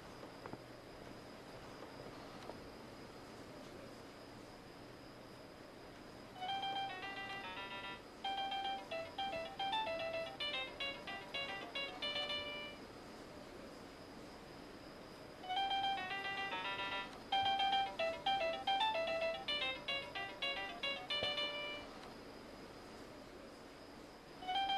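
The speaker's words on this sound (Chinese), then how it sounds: "手机没人接" An unanswered mobile phone rings in two long bursts of a bright, repeating melodic ringtone, separated by a short pause, with faint room hiss between and no voices.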